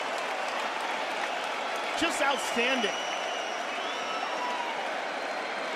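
An arena crowd on its feet applauds and cheers steadily after a fight, a broad, sustained roar of clapping, while a commentator speaks briefly over it.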